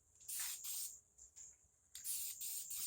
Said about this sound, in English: spray everything off with lacquer thinner before you start spraying it